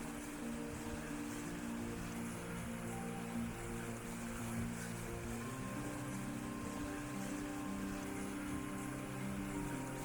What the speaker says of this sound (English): Following this route we come across this watermill.